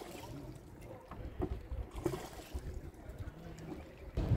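Wooden shikara boat gliding on Dal Lake in Kashmir, with soft water lapping and occasional small paddle splashes, quiet and close, under faint distant background murmur.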